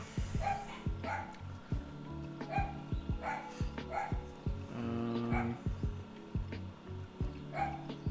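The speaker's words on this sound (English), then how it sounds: "I'm just going to let the dogs bark." Dogs barking nearby while someone builds a keyboard: sharp, repeated woofs at an uneven pace, with a few yips mixed in, loud and close throughout.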